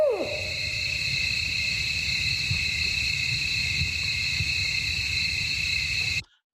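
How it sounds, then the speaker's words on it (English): An owl hooting repeatedly in a natural outdoor setting, soft low hoots spaced at regular intervals over steady background insect or cricket chirring, ending abruptly. "mostly owls hoot, but not all owls hoot"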